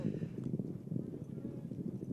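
A polo horse's hooves pound the field in a steady galloping rhythm, fairly faint under continuous commentary from a match at the British Open in Dubai.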